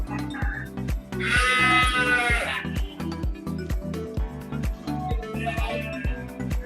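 Merino crossbreed sheep bleat loudly at close range, one long strained bleat followed later by a shorter second call, over a continuous rhythmic thumping mechanical background.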